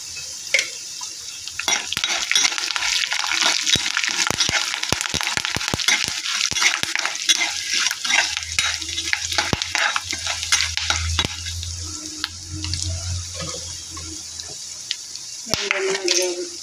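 Seasoning for idly upma with curry leaves sizzles and spatters in hot oil while a spoon scrapes and stirs the pan, loud and close, with a low rumble rising midway.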